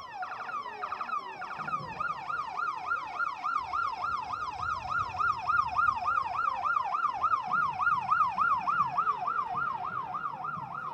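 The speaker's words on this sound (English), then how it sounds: "You hear the sirens from the VA police." A VA police siren wails during an MLK parade in East Dublin, Georgia, cycling rapidly up and down in a steady repeating pattern, loud and continuous over faint background noise.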